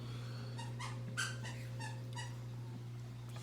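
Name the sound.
dog playing with squeaky toy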